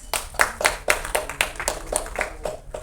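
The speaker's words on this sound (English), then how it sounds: "A big round of applause please" A small group claps hands in brisk, uneven applause at a film trailer launch, fairly close, lasting a few seconds with no talking.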